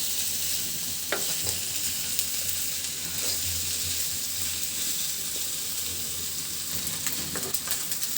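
Potatoes frying in a pan for a fish bharta, giving a steady, close sizzle with occasional stirring scrapes throughout and no voices.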